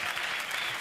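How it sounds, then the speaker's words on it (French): Dense, steady applause from an audience at a radio concert session, a continuous wash of clapping hands with no pauses, fairly loud throughout. "je voudrais qu'on applaudisse Claire, qui est notre sirène de ce soir"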